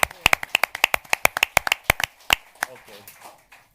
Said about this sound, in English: Give a round of applause to the host, man.